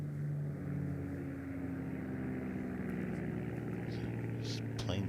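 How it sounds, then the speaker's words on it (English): A plane with a deep, throaty engine drones overhead above the golf course during The Open, a steady low hum that lasts throughout, with commentators talking over it. "This plane sounds pretty nice. Deep and throaty."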